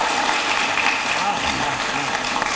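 Audience applause welcoming a poet onto the stage at a televised Hindi poetry event, a broad, continuous wash of clapping from a large crowd that stays loud throughout, with voices mixed in beneath it.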